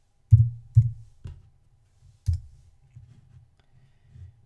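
Computer mouse clicking during a TinkerCad session: a few sharp, close clicks, two in quick succession, then another and a louder one after a pause, followed by fainter soft taps.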